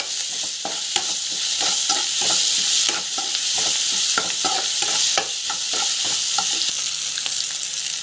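Potato with asafoetida sautés in a pan, a loud steady sizzle throughout with a spatula scraping and tapping the pan in a quick irregular rhythm, and no voices.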